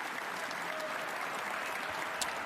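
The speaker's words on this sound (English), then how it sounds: "you can hear what the Belfast crowd think about that" Snooker audience in Belfast at the Northern Ireland Open semi-final applauds in a steady, even patter of clapping that holds at a moderate level throughout, with no voices heard over it.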